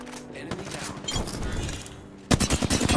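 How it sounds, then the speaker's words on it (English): Rapid automatic gunfire in Apex Legends, a close burst of sharp repeated shots that grows louder in the final second, with game noise underneath. "I gotta slow down on shooting"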